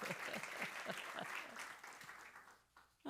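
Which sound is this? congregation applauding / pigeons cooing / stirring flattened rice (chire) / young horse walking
congregation applauding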